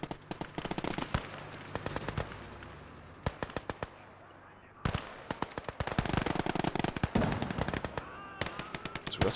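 Grenade explosions and gunfire in the Gates of Hell Ostfront video game, a dense run of sharp crackling bursts and pops, some close and loud, with brief quieter gaps between volleys.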